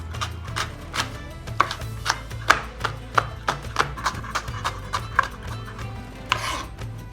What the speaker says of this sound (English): I'm also going to chop them into small cubes.